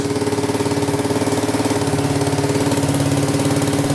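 A Kawasaki KLT 250 three-wheeler engine idling after choking, a close, steady, rapid-pulsing putter with an even mechanical rhythm and no voices.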